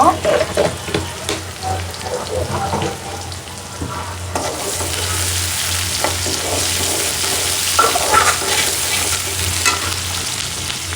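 A pinch of fenugreek seeds dropped into hot oil, giving a sustained crackling sizzle that swells after a few seconds amid occasional utensil knocks and stirring, close and fairly loud.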